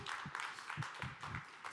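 Brief burst of audience applause welcoming panelists onto the stage at a defence technology conference, scattered claps, fairly faint and distant.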